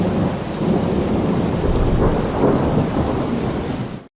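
A heavy downpour breaks over dry desert ground with rolling thunder, as a dense, loud roar of rain and rumble that fills the scene and then cuts off abruptly.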